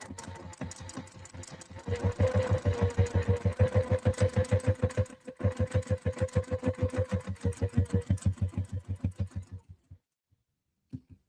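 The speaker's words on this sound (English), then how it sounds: "And you're basting around all 4 sides." A sewing machine basting around all four sides of fabric, its needle running in fast, evenly spaced stitching bursts with short pauses between runs, close and clear, then stopping.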